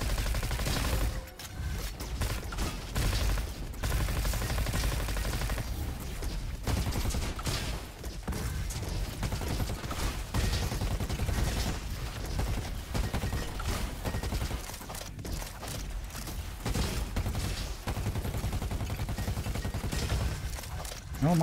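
Rapid Raptor SMG fire in the shooter game Roboquest keeps up nearly continuous loud bursts across the whole stretch, with a few short breaks between volleys and mechanical clatter underneath.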